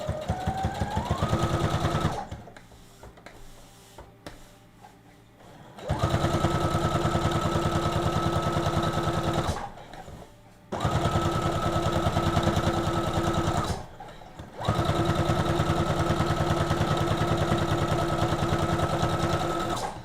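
Domestic sewing machine topstitching a dress seam in white thread, running in several long steady bursts of fast rhythmic stitching with short pauses between, close and clear, no talking.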